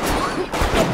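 A gunshot in BioShock brings down a splicer with a headshot, a loud, close, sharp crack that rings out briefly, with a second burst following right after.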